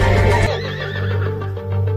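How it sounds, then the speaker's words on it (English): A horse gives a loud, close, drawn-out whinny that trails off into lower snorting tones, heard clearly with no voices. "There's a horse in your house."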